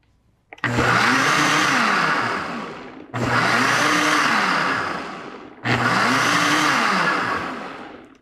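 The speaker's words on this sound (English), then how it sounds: "This is a pretty high-powered blender." A high-powered blender runs in three loud bursts of a few seconds each, its motor roaring and whirring as the blade churns the contents, separated by brief pauses, with no talking.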